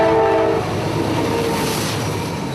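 Freight train 173 roars past at close range in Florida railfan territory, a loud horn blast sounding at the start over the rumbling cars, then continuous wheel and car noise.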